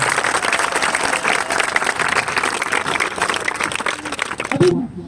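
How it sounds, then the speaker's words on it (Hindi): Audience clapping at an evening poetry gathering held for a Subhas Chandra Bose anniversary at an old-age home, a continuous close patter of many hands that stops abruptly near the end. "जब तालियां बजा ही रहे हो तो जरा खुल करके तालियां बजा दीजिए।"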